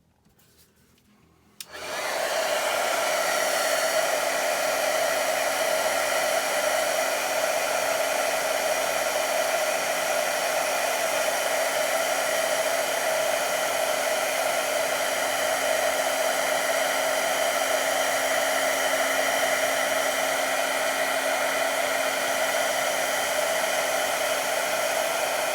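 A heat gun melts embossing powder on a card. After a quiet start, it switches on with a loud, constant blowing whir that holds steady to the end.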